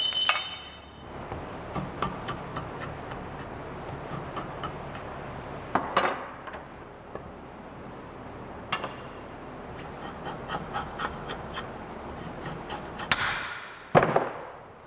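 An axe head is hammered down onto its handle in a tight fit, with repeated hard metallic blows at an irregular pace, several louder strikes standing out, close and with no talk.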